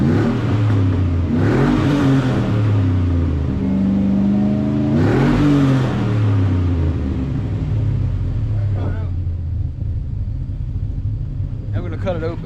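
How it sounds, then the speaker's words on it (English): Car engine revs through a muffled single 3-inch exhaust, with two loud rising and falling revs followed by a lower idle rumble and brief blips near the end. "So this is muffled just like the same similar mufflers that are on Project SLIK DOGG, but it's a single 3-inch."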